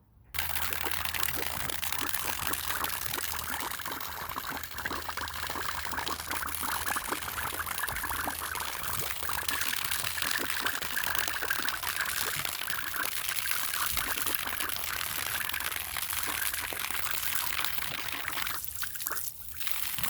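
Water flushes steadily through a FilterSmart/Pentair whole-house water filter, a continuous rushing, trickling flow that holds at an even level for the whole stretch with no talk.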